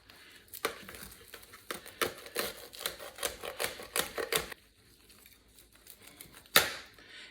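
Knife cutting a turkey's thigh and leg away from the body, producing a run of crisp crackling snaps and tearing sounds, close and fairly loud, then a pause and one sharp final crack.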